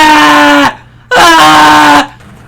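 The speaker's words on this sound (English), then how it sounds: "That scream. I've heard that scream before." Two loud, high-pitched female screams from the video game Phoenix Wright: Ace Attorney, each lasting under a second and separated by a short pause, with no talk over them.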